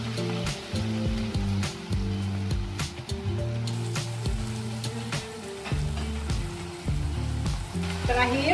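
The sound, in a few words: shrimp sizzling as added to pan for butter sauce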